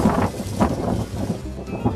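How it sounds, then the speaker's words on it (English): Wind gusts buffet the microphone in low, rumbling surges, with a faint voice underneath. "It's getting very windy."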